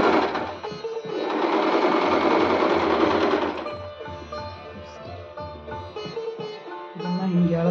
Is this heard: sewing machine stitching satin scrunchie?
yes